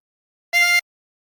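A single short, bright note from a 24-hole tremolo harmonica playing a Bella Ciao phrase sounds alone in silence for about a quarter second.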